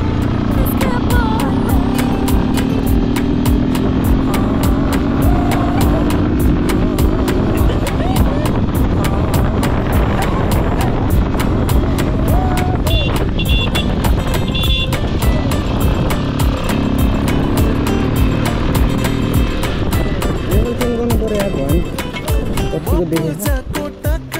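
A motorcycle engine drones loudly and continuously while riding, with wind buffeting and rising and falling revs throughout.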